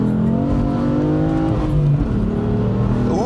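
Tuned BMW M3 F80 fitted with an Active Autoworks downpipe and exhaust gives off a steady, loud, raspy engine drone from inside the car, its pitch rising and falling slightly with a brief shift partway through.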